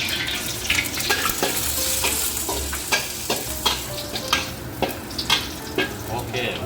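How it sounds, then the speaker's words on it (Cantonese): Minced garlic frying in hot oil in a wok, with a steady sizzle and repeated scraping stirs of a spatula, close up and alone without talk. "爆蒜米啦，開火，擠熟油"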